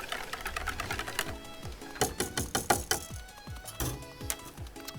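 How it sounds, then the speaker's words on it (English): A whisk quickly stirs a gelato base flecked with vanilla bean in a bowl. Close, rapid and steady tapping strokes run in a fast rhythm, moderately loud, with no talk. "I'll give the mixture a quick whisk just to break everything up"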